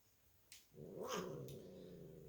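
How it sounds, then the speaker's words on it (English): Two cats scrap with each other near a phone, letting out a long, rising and falling yowl with growling. The sound is faint and somewhat distant, and begins after a brief knock. "the cats are scrapping with each other by the phone now"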